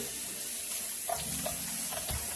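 Tap water runs steadily into a sink to rinse salted eggplant, a constant close hiss with a few soft splashes and thuds from the bowl near the end.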